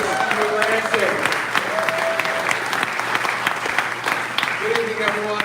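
A crowd at a political gathering applauds loudly and continuously for two men, a thick, close wash of clapping with cheers and raised voices mixed in throughout.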